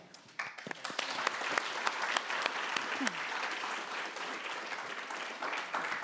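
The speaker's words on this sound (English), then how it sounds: "The claps aren't for me, people" Audience applause for an introduced guest speaker at the Melbourne Law School, University of Melbourne: a steady wash of many hands clapping together, moderately distant, sustained for several seconds.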